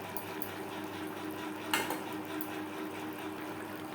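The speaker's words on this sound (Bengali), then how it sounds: "গ্রেভির সাথে গরম মশলা পাউডার বেশ ভালো করে মিক্সড করে দেবো" Garam masala powder is mixed into the gravy of a rui fish curry, a soft, low bubbling simmer with a single brief clink of a spoon against the pot, faint and close.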